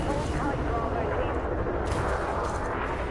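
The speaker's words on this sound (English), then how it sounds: "That'll be the DBX shooting at me." A DBX ship in Elite Dangerous fires its weapons in a dense, unbroken roar of rapid shots and rumbling impacts. The barrage is loud and close throughout, with a voice partly buried in the din.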